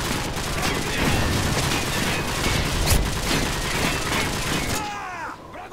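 Grenade blast and gunfire in a video game, a dense continuous barrage of shots and booms filling the scene, loud throughout before cutting away near the end.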